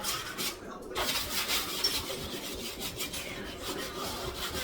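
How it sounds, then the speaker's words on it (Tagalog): Steady rasping scrub against the inside of a greasy oven, a continuous close rubbing texture with rhythmic strokes and faint speech mixed in. "Kaya kailangan kuskusin."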